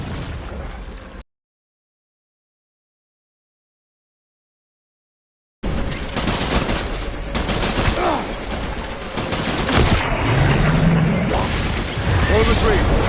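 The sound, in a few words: gunfire in PS4 video game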